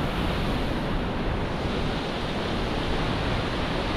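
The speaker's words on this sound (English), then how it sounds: "First waterfall of the trip." Waterfall in Iceland, a dense, steady roar of rushing water with wind buffeting, loud and continuous with no talking.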